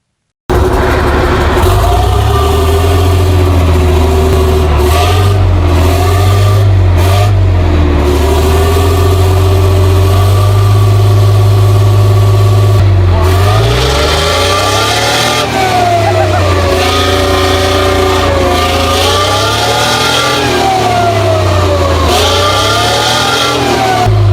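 A Leyland L60 19-liter six-cylinder two-stroke opposed-piston diesel engine from a Chieftain tank cranks and catches, then settles into a deep, loud rumble with rhythmic revving that rises and falls in waves.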